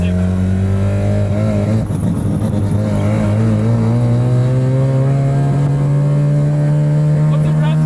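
A 1977 Mazda RX7 engine revs loud and close with a steady rising drone. Voices talk faintly beneath it.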